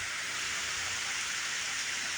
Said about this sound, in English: cause it's raining.